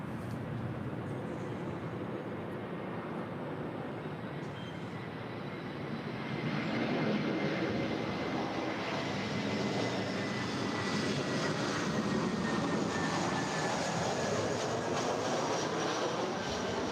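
A Delta Air Lines Airbus A321 arrives at LAX, its engines a broad, steady roar that swells louder partway through and holds at a distance, with no talk over it.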